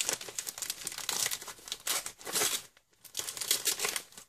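Winnie-the-Pooh wrapping paper is crinkled and crumpled up close, in a dense, continuous rustle that briefly pauses before resuming, with no talk.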